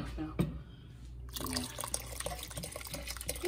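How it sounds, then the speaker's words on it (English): Water runs from a tap into an empty beer can, a faint splashing trickle that starts after a brief pause and continues with gurgling drips, recorded close up in a quiet kitchen. "just fill that back up with some water"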